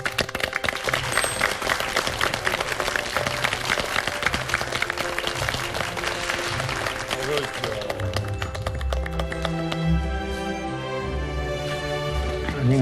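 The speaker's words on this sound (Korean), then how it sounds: "여러분 박수로 맞이해 주십시오." A studio audience on a Korean television talk show bursts into loud, sustained applause to welcome guests onto the set, the dense clapping fading after several seconds as upbeat music takes over.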